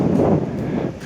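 Strong gusts blow across a roof during tiling work, buffeting the microphone with a rough, fluttering rush that rises and falls, heard without talk.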